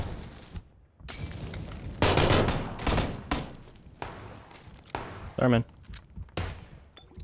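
Gunfire from a P92 pistol in PlayerUnknown's Battlegrounds, a string of sharp shots and bursts in uneven rhythm, close and loud, mixed with thuds and impacts while players talk over the action.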